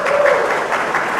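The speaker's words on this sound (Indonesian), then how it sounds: "Tepuk tangan dulu." A church congregation applauds during a Christmas sermon, a short burst of dense, even clapping from many hands filling the room, fairly loud, with a voice briefly heard over it.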